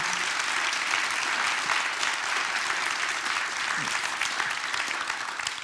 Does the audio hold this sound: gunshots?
no